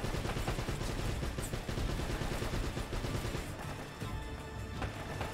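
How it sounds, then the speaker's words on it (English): Continuous bursts of gunfire in the action game Uncharted: Drake's Fortune, a dense, steady barrage of shots and impacts throughout, faint in level and without talk. "Those guys are out there shooting at this"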